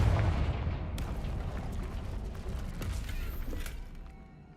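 The Confringo blasting spell cast in Hogwarts Legacy, a heavy booming burst with rumbling low crackle and scattered sharp pops that slowly fade away over a few seconds.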